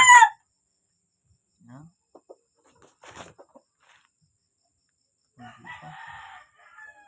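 A Dark Kelso gamefowl rooster crows, with a short burst at the start and a longer, clear crow near the end. Faint, sparse voices and small sounds fill the quiet gap between the two calls.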